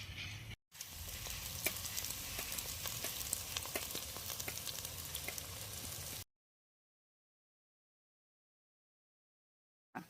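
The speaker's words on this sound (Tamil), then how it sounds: "வெங்காயம் வணங்கிச்சு இப்போ நசுக்கின பூண்டை போட்டுக்கலாம்" Onion and crushed garlic fry in a pan with a steady, loud sizzle and occasional stirring clicks for about six seconds, then the sound stops and near silence follows.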